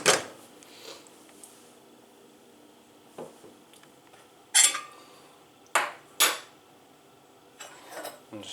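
Meatballs stirred in thick tomato sauce in a pan, giving a few sharp metallic scrapes and clinks of utensil on pan at irregular intervals over quiet, soft squishy stirring.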